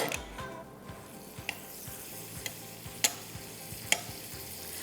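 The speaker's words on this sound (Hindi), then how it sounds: "मक्खन में आप इसको पकने दीजिएगा" Food cooking in butter in a pan, a soft, steady sizzle broken by a series of sharp clicks and scrapes from a utensil at irregular intervals, close and without voices.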